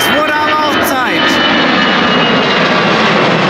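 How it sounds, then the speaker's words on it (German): A fixed-wing airplane passes overhead as a steady, loud broadband roar filling the clip, with a brief bit of speech near the start. "ich werde endlich von einem Flugzeug belästigt"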